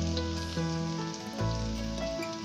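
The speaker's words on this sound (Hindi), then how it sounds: "मैं शैलो फ्राई कर रही हूँ।" Shami kebabs shallow frying in oil in a pan, giving a steady soft sizzle with fine crackle, close and quiet, alone without talk.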